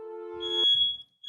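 A smoke alarm gives one piercing electronic beep, cut off sharply, followed by a thinner high chirp tone and a brief start of another at the end.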